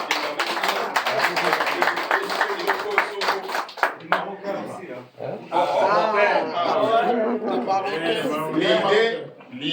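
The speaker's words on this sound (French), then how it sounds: "on peut applaudir notre ami Kosovar" Lively clapping from a crowd at a community party in Verviers celebrating the Congolese president's election, quick close claps mixed with laughter and chatter, then giving way to continued talking.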